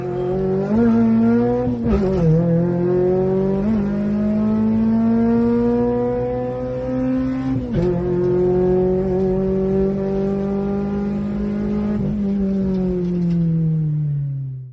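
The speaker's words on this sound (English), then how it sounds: "The spoon muffler, the original, is really giving it justice to the sound" A 1996 Honda Civic EK VTi with a D15B7 VTEC engine and original Spoon muffler revs hard to an 8,000 rpm cutoff, loud and raspy, climbing in pitch with brief gear-change dips, then holding high before cutting off.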